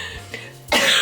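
A woman coughs once, a short, close, harsh burst near the end after a quiet moment.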